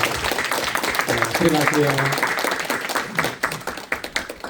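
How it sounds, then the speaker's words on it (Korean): A church congregation gives congratulatory applause at a Christmas Day service, a dense wash of clapping that runs the whole time under a speaking voice and thins out toward the end. "다시 한번 축하의 박수 보내주시고 퇴장하도록 하겠습니다"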